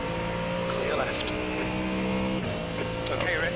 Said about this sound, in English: It was actually the class car approaching.